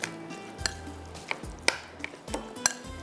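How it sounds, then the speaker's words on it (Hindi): Chicken seekh kabab marinade with black pepper, salt, sugar, cornflour and oil being stirred in a bowl, soft wet mixing punctuated by several sharp clinks of a utensil against the dish, close and without speech. "बस इसको मिक्स कीजिएगा"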